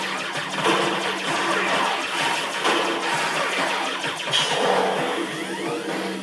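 Vehicles driving in the video game Sly 4: Thieves in Time, their engines humming and revving in a dense, steady stream of mechanical noise with game effects layered over it.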